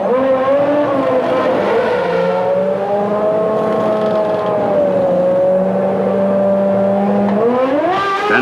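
Formula 1 cars from the 1994 season, Senna's and Schumacher's among them, roar into the pits with loud, sustained engine whine that sweeps down and back up in pitch, rising sharply at the end, with no talk.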